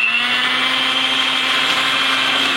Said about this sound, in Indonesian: kemudian kita akan mixer selama 5 menit.